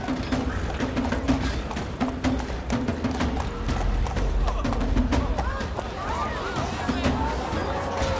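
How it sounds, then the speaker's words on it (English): Horse hooves clip-clop steadily through the streets during a procession of a riderless horse, a rhythmic clatter heard under continuous talk and faint crowd murmur. "they're parading her empty horse through the streets with her shoes facing backwards"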